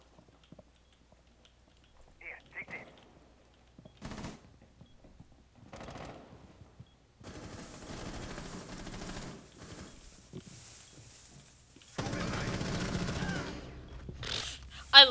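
First-person shooter video game gunfire, scattered quiet shots early, then sustained louder bursts and rapid fire toward the end, with a sharp final crack.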